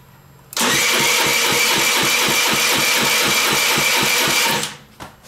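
A Zipp Vapor four-stroke scooter engine with the carburettor removed, cranked on the starter during a compression test: loud rapid rhythmic churning for about four seconds, starting abruptly and then winding down to a stop.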